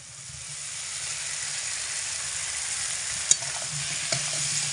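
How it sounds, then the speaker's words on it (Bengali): Potato, drumstick and pumpkin pieces being stir-fried with spices over low to medium heat give off a steady close sizzle and hiss, with a couple of sharp utensil knocks against the pan and no talking. "এবার এগুলোকে লো টু মিডিয়াম আঁচে রেখে মোটামুটি 2 থেকে 3 মিনিট মতো ভালো করে নাড়াচাড়া করে কষিয়ে নেব"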